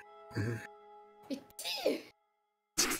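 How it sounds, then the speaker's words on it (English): A single sneeze bursts out amid short vocal sounds, fairly faint, followed by silence and another brief burst. "if that was a real sneeze"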